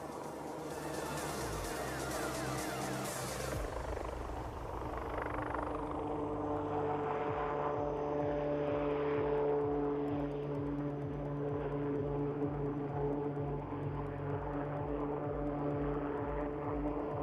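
Military helicopter performing display maneuvers such as quick stops, sideward and rearward flight at the Aero India 2021 air show, a steady rotor and engine drone at moderate distance whose pitch shifts as it manoeuvres, alone without voices.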